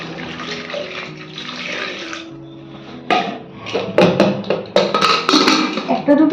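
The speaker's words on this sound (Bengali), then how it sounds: "আর এই জল দিয়ে দিলাম" Water is poured into a pressure-cooker pot of homemade chicken biryani with potatoes and turmeric: a steady rushing splash for about two seconds, then scattered clinks and knocks of the pot and utensils.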